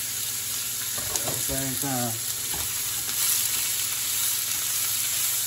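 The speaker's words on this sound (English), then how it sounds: "Now we can throw the vegetables in. And the onions" Vegetables and onions hitting a hot pan for a fish fry, a loud steady sizzle that carries on under a man's brief speech, with a few clatters of stirring.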